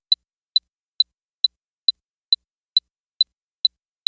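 Ten crisp, high-pitched clicks from the Clew indoor navigation app repeat at a steady, even pace, each one short and isolated against silence.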